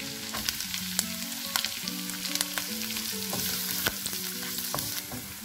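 Finely chopped garlic fries in hot oil until crispy, a steady close sizzle and crackle with a few sharp spatters and stirring scrapes, with no talking.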